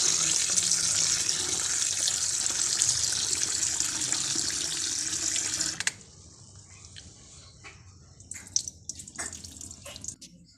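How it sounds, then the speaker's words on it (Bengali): Vegetables for veg momos are rinsed under a running kitchen tap, a steady broadband water rush for about six seconds that cuts off abruptly, followed by quieter sporadic splashes and drips. "সবজিগুলো আমি আগে ধুয়ে নেব ভালো করে।"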